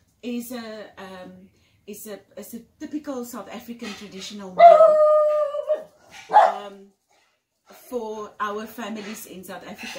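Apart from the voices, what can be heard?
dog barking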